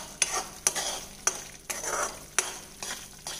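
Tomato thokku frying in oil is stirred with repeated scraping strokes, about six distinct sweeps over a steady sizzle, close and moderately loud with no talking.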